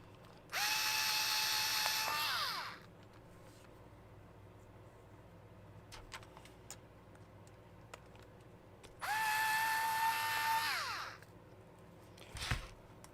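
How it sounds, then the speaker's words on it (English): Power drill or impact driver backing bolts out in a workshop, two loud sustained whirring bursts each about two seconds long, ending with a winding-down whine, separated by quiet background clicks. "So I'm just going to get these bolts out and move them round one."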